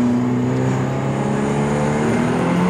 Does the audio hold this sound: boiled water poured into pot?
no